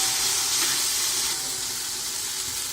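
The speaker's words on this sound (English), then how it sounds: "So let's saute this ginger garlic paste." Ginger garlic paste sautéing in a pan for chicken curry, giving a steady, close sizzling hiss that holds level throughout and softens slightly toward the end, with no talking.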